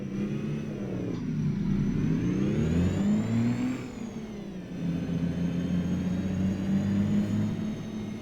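A heavy Cummins N14 engine in a Kenworth K100 cabover in American Truck Simulator drones steadily, its pitch rising as it revs and easing back before climbing again, a smooth synthetic-sounding rumble.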